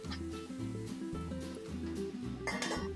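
A metal lid clinks down onto a cooking pot of frying spice and chili powder for a moong dal with fenugreek leaves, a brief close clatter near the end over steady kitchen background.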